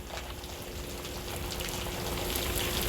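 Steady rain falls outdoors while a car is being washed, a dense, even hiss of drops hitting surfaces that holds constant throughout with no voices.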